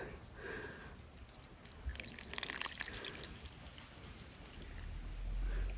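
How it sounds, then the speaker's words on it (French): Water is poured gently onto a freshly repotted pine bonsai, a soft faint trickle and splashing into soil with a few drips, ending in a low rumble. "On arrose doucement pour pas le noyer."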